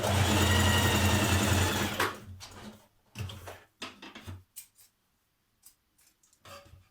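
A sewing machine stitches the underarm seam of a dress sleeve, a loud, close, steady whir for about two seconds that then breaks into short clicks and handling sounds.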